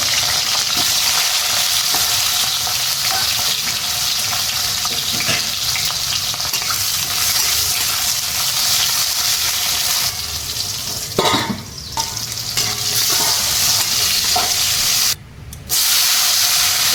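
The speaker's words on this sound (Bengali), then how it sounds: "হ্যাঁ, বেগুনটা ভেজে নেব।" Eggplant slices frying in a pan for khichuri, a steady loud sizzle running throughout, close by, with a brief dip and a short gap near the end and no talking.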